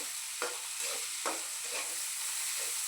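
Spoon stirring and scraping bombil (Bombay duck) fish masala roasting in oil in a pan, a few distinct scrapes over a steady faint sizzle, close and alone.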